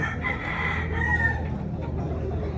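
A rooster at a chicken expo in Consolacion, Cebu crows once, fairly close, among steady low crowd murmur and clucking.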